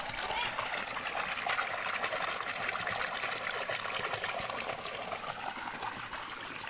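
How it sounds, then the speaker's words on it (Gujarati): A water pump motor on a farm pushes water out in a steady, dense rush and splash that stays loud and unbroken from start to finish, with no pause. "આપણે મોટર ચાલુ થઈ જશે, જોઈ શકો છો."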